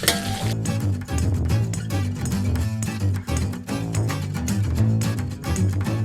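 Squid stir-fried with salted egg sauce in a pan, a steady loud sizzle with the scrape and clink of a utensil stirring throughout.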